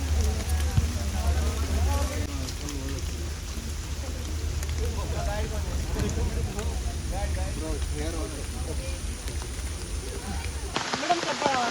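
Heavy monsoon rain on the Dudhsagar waterfalls trek pours in a dense, constant roar, with voices talking throughout. The sound cuts off abruptly at the very end.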